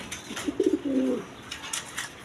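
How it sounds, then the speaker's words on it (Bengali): A pair of racer pigeons in a loft give a brief close coo, a few quick throaty pulses rolling into a longer low call. "এখানে এক পেয়ার রেশার কবুতর আছে দেখেন"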